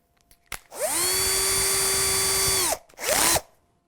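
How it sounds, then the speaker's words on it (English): A power drill runs steadily for about two seconds while marking holes for tuners on a guitar kit, stops briefly, then gives a second short burst, loud and close with no talk. "let's drill just to mark where we want to drill"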